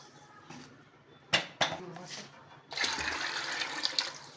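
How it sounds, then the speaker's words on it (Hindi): Roughly two litres of water poured into a pressure cooker holding corn, a few sharp splashes and clanks followed by a sustained rushing pour, close and fairly loud. "मैं तकरीबन 2 लीटर इसके अंदर पानी डालूँगी"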